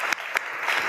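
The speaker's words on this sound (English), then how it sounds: "Give yourselves a round of applause." An audience of about 150 people at an arts event applauds, a brief burst of dense clapping lasting under a second.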